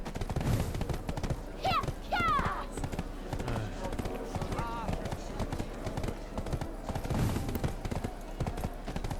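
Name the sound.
horse hooves in the video game Black Desert Online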